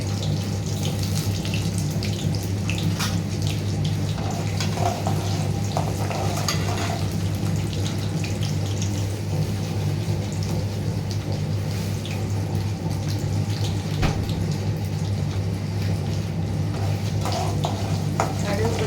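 Mustard seeds crackle and sizzle in hot oil while lemon rasam is prepared, a continuous close spitting hiss over a low steady hum.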